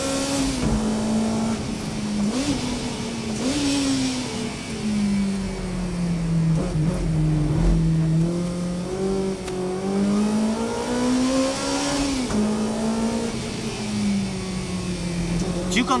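The N-Plus Toyota Altezza, a naturally aspirated race car with an internally tuned engine, accelerates around Tsukuba circuit, its high engine note climbing and falling through gear changes and revving toward 10,000 rpm, loud and continuous, with someone narrating over it.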